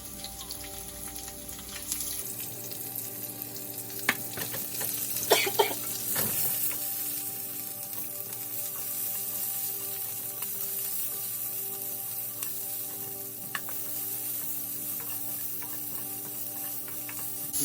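Onions fry over a high flame for Indian-style desi spaghetti, a loud, constant sizzle and crackle after a short quieter start, with scattered stirring clatters and spatters, and no talking.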